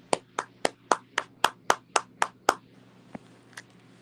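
A few hands clap for a Sunday service congregation: about ten crisp, evenly spaced claps close by, then two faint scattered claps after a pause.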